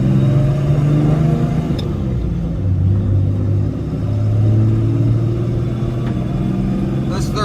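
A pickup truck with a swapped G56 manual transmission drones and rumbles while driving, pitch rising and falling with gear changes, loud and close, with a voice speaking over it.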